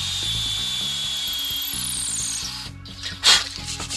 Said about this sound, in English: Drill out the hole for the screw chuck.